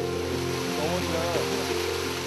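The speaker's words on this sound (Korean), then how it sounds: "우여곡절 끝에 내려온 산 아래 시원한 폭포가 이들을 맞는다." A cool waterfall at the foot of a mountain, reached after a steep descent, gives a steady broadband rush of falling water throughout, with a voice-like tonal sound running over it.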